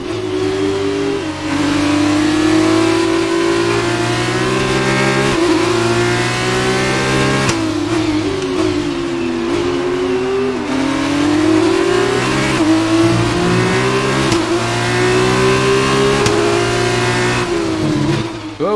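A Formula 1 racing car engine in the F1 2019 video game screams at high revs, pitch wavering up and down as the car spins out on the kerbs losing traction, loud and continuous for nearly twenty seconds.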